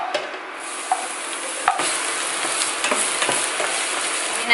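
Garlic sautéing in leftover pork oil for pork pata caldereta makes a continuous close sizzle with a few light stirring knocks, heard alone without any talking.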